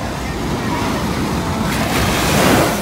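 Sea waves roll in at Acapulco beach, a loud, continuous roar of surf mixed with gusty wind buffeting the microphone, building slightly toward the end.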